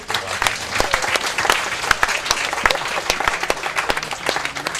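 Congregation clapping at a Friday evening Shabbat service, a steady burst of crowd applause with sharp individual claps standing out, fairly close and loud throughout with no talk over it.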